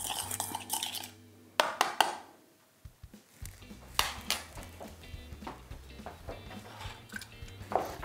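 Seitan mixture being stirred in a bowl, with a utensil scraping and clinking against the sides in a series of close, uneven knocks and rattles, loud bursts separated by quieter stirring.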